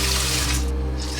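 Rinsed, salted eggplants for Georgian ajapsandali have their water drained off in a kitchen sink, a steady close rush of running, splashing water with no pauses.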